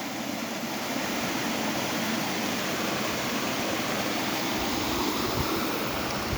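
A creek swollen past its banks rushes with strong force, a steady, loud, dense wash of flowing water filling the whole stretch without pause.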